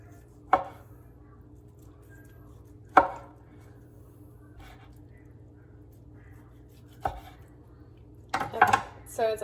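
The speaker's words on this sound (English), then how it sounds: "So I'm just slicing it as if it were a nice roast." A knife slices through cooked beef tongue on a board, four sharp separate chops spaced a few seconds apart over a low steady hum, followed by a short cluster of clattering cuts near the end.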